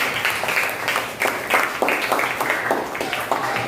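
A classroom of students clapping for themselves, a dense, steady patter of many hands lasting a few seconds with pulsing bursts of claps and no talk over it.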